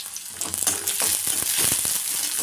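Green chillies sauté in oil in a pan for a Madurai-style roasted gram chutney, a crackling sizzle that rises after a quieter start, with brief stirring clicks.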